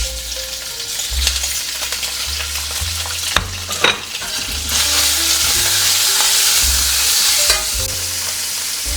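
Raw ground pork fries in hazelnut oil with garlic, a continuous close sizzle under repeated scraping stir strokes that swells louder partway through, with no talking.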